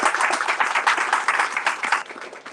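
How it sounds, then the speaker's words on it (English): A morning gathering of the restaurant sector applauds youth employment leaders, brief dense crowd clapping, fairly loud and even throughout. "I just want to give a round of applause to these wonderful leaders."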